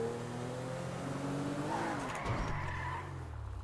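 A video game car drifts with a rising tire squeal over a steady engine drone, the screech sweeping up briefly mid-clip before the engine note settles lower.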